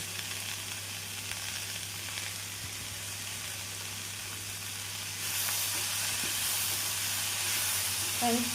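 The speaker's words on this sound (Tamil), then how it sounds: "நான் பீன்ஸ் கேரட் போட்டு ஒரு நிமிடம் வெங்காயத்துடன் நன்றாக கிளறி" Beans and carrots stir-fry with onion in a pan for a Tamil-style poriyal, making a continuous close sizzle and hiss that grows louder midway, with a light stirring scrape near the end and no speech.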